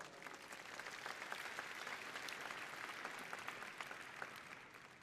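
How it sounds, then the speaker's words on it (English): A keynote audience at a large tech conference applauds, a dense, sustained wash of many hands clapping that swells slightly and stays fairly distant and even throughout. "So give them a big round of applause."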